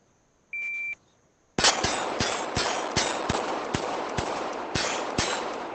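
A short electronic start beep sounds alone, then gunshots from a shooting stage in the VR game ACE VR follow as a fast string of about a dozen sharp, loud reports at uneven intervals.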